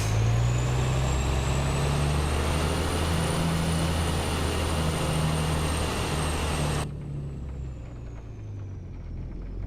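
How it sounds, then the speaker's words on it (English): Truck engine drones loudly while driving, a steady low rumble with a faint high whine, heard from inside the cab; the sound drops in level near the end as if a window closes. "Is this truck too loud for you guys?"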